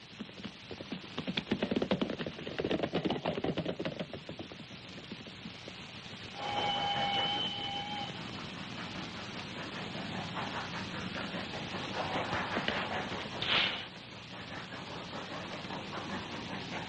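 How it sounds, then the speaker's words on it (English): A train running on rails in a 1960s spaghetti western setting, a steady rumbling roll with clanking and a brief high squeal of wheels, heard continuously without talk. "Hey, hombres, the train will not wait for us."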